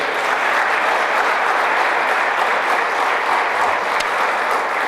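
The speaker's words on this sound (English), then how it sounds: "So let's give him a round of applause." A large audience applauds steadily at a school grand opening for a STEM academy, the dense clapping loud and continuous throughout with no pause.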